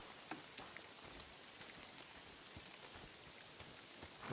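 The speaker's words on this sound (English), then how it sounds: "It's still raining." Steady rain falling in the video game Kingdom Come Deliverance II, a soft continuous patter of drops on the ground, faint and even throughout with no voices.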